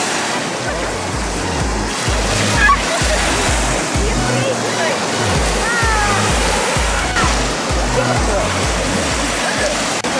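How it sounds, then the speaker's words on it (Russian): Waves on the Volga river with a cruise ship nearby, a continuous loud rush of surf and water with wind buffeting the microphone, while a person talks over it. "Вон какие волны, вон наш там сзади теплоход, а вон река Волга."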